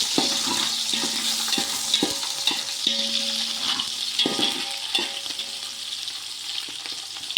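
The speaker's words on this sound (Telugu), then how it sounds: "అలాగే పచ్చిమిర్చి వేసుకుంటున్నానండి." Green chillies and onions sizzle in hot oil in a large pot for bagara rice, a steady bright frying hiss broken by repeated clanks and scrapes of a stirring spoon against the metal.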